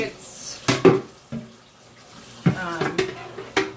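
Water splashes and runs in short bursts while a Keurig coffee maker is rinsed out, with clunks of parts being handled and a voice speaking briefly in between.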